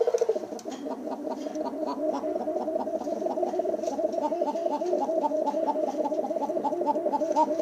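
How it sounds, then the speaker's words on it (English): Arabian trumpeter pigeons, a hen joining in, give a steady rapid rolling trumpeting coo that carries on unbroken, close and moderately loud, with no talk over it. "The hen's starting to trumpet too."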